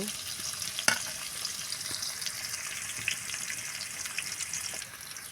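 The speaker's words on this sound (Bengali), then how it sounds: "পেঁয়াজটা আমরা একটু সময় এরকম নেড়ে চেড়ে নিয়ে ভেজে নেব।" Onion fries in a pan while it is stirred, giving a close, steady sizzle with scraping strokes and one sharp knock near the start.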